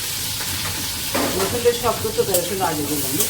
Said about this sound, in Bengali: আস্তে আস্তে ভেজে নিবে